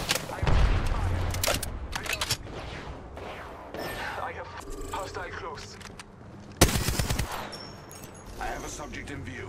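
Video game gunfire, dense bursts of rapid shots and booms spread across the scene with a loud close burst midway, under a faint game voice.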